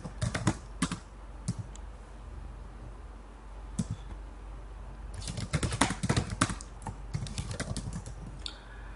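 Bursts of quick keystrokes on a computer keyboard while code is being written, clustered clicks separated by short pauses, close and fairly quiet, with no talking.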